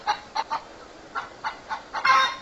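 A hen gives a loud alarm call, a string of about eight sharp, close squawks in an uneven rhythm, ending in a longer, harsher cry, with nothing else audible.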